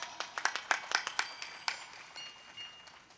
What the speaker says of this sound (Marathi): टाळी वाजवा की